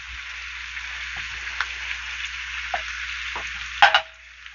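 A burger patty sizzles steadily on a hot griddle for a patty melt, a dense frying hiss running throughout with a few louder crackles and a brief scrape near the end.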